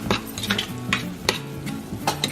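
Vegetable samosa filling with potatoes and turmeric being stirred in a pan, with soft scraping strokes and light sizzling, close and brief.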